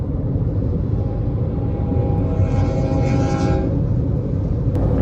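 A CSX coal train rolls through Dade City, a loud, steady rumble of wagons with a brief rising tonal whine in the middle and a sharp clank near the end, no voices.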